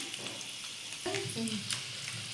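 Garlic, cumin and mustard seeds fry in hot oil with a soft, steady sizzle and a few crackling pops, faint and continuous with no talking.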